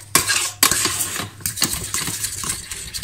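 Caramel stirred in a pan over low heat, a utensil scraping and knocking against the metal in close, irregular strokes with a faint bubbling underneath, no voices.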